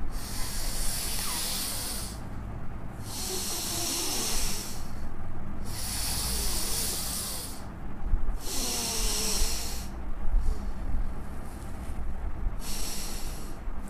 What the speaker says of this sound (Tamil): அப்போ நல்லா மூச்சை வெளியே விடணும்.